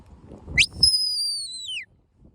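A sharp rising sheepdog whistle command blip followed by a long, steady high whistle that bends downward at the end, sounding over faint background murmur.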